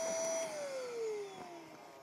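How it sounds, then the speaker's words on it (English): A Nixy Ventus 12V electric SUP pump for paddle boards and kayaks winds down after inflating, its cooling fan whirring steadily with a falling motor whine, close and fairly quiet. "you can hear the cooling fan inside of it"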